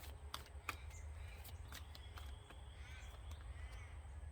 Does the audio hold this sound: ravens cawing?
yes